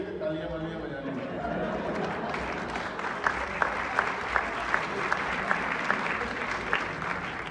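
Applause from an audience at a Hindi comedy poetry evening in Chicago, fairly faint and roomy, with murmuring voices underneath and a run of evenly spaced, sharper claps standing out toward the end.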